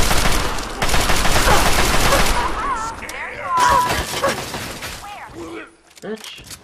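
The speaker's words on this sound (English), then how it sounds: "Oh, they're shooting me" Enemy gunfire rattles at the player in Fallout 3, loud overlapping bursts of automatic shots and impacts up close, tapering off toward the end while a player talks over the action.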